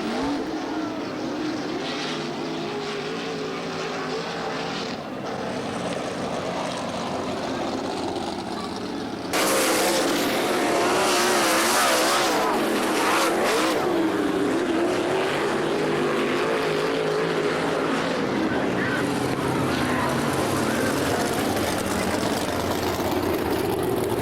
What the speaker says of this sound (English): Steve Irwin in the 0 car found the fast way around the tricky track and jumped out to a big lead in the feature